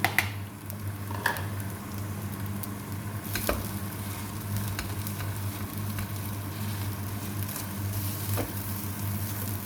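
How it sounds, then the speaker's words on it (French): Cooked rice for nasi goreng being stir-fried in a pan, a steady close sizzle running throughout with scattered scraping and stirring clicks of the utensil. "Mélange bien le riz. Il faut vraiment bien mélanger."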